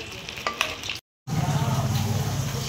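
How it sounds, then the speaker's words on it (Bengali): Fish sizzling and spitting in hot oil, a continuous frying hiss with a brief silent gap, then the sizzle returns louder and fuller. "এই যে মাছ ভাজা হচ্ছে"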